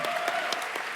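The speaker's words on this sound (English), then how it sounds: "So give her a round of applause." A brief burst of enthusiastic applause from a festival main-stage audience, dense clapping that holds steady for about a second.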